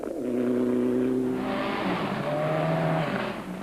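A Subaru rally car races through a gravel stage at the Cape Rally 2006, its engine roaring loud and close as it accelerates and revs, with tires skidding and squealing on the slippery surface.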